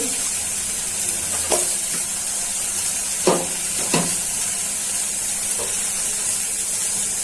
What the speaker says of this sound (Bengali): আমি পেঁয়াজ কুচিগুলো দিয়ে দিচ্ছি।